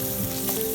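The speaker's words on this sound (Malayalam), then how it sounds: "നല്ലതായിട്ട് ഇഞ്ചി ഒന്ന് വറുത്തെടുക്കട്ടെ" Ginger frying in hot oil in a pan for a Kerala-style inji curry, a loud, continuous close-up sizzle with a faint stirring undertone.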